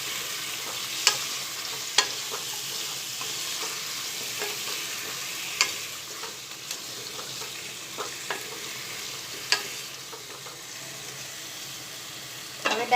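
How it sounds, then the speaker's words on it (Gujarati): Spicy Gujarati potato chips curry, freshly salted, is stirred and mixed in a pan over a steady low sizzle, with sharp clinks and scrapes of the spoon against the pan at irregular intervals. "સરસ બધું મિક્સ કરી લઈશું।"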